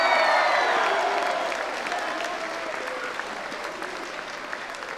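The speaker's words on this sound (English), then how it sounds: "Give a massive cheer, everyone, for the live stream" A crowd at a school house music performance night applauds and cheers loudly, the clapping dense and sustained, then gradually easing off to a lighter, scattered patter.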